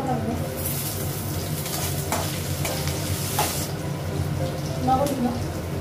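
Green chillies hiss and sizzle as they hit hot oil in a frying pan that already holds whole cumin, ginger and dried red chillies. A spoon stirs and scrapes throughout, and a voice talks over it.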